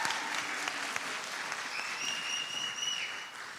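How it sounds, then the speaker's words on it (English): Audience at a Sunday morning church gathering applauding a skit, a steady dense round of clapping throughout, fairly close and sustained, with a faint tonal whine above it. "Let's give them another round of applause"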